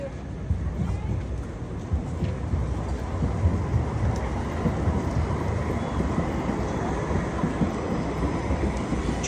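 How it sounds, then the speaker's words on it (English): A train rolls past in the city of Bremen, Germany, making a steady, heavy rumble with rattling wheel noise that stays loud and constant throughout. "trains are everywhere"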